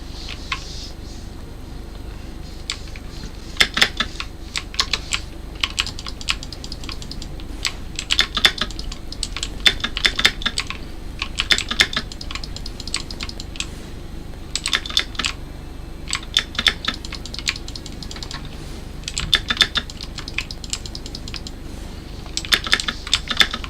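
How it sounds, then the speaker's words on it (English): Loud, close computer keyboard typing during a game of Rogues, with rapid bursts of clacking keystrokes and clustered flurries over a steady low background hum, no speech. "the keyboard is very loud"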